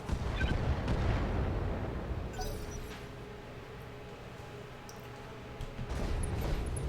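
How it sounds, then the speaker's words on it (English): Mech weapons fire in the BattleTech video game: loud, continuous booming and rumbling barrage with crackling bursts, sustained across the whole stretch with a brief dip in the middle before swelling again. "Firing full complement on enemy."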